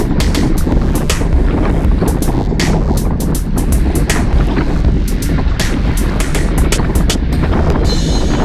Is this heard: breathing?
no